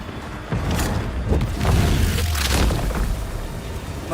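A corpse's gun fires in Banishers: Ghosts of New Eden, a heavy booming blast that rolls on with a loud rumbling tail and scattered crackling over several seconds.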